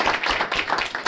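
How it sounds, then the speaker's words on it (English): Studio audience applause for show guests, a short burst of brisk clapping from a small crowd, close and steady with slight pulses in rhythm. "Give them a round of applause."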